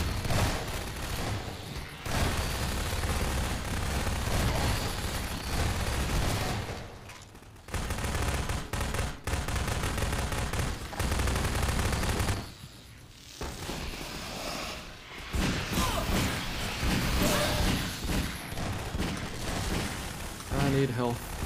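Heavy shotgun blasts and other weapon fire fill a chaotic video game firefight, loud and dense nearly throughout with brief lulls, while a player talks over the action.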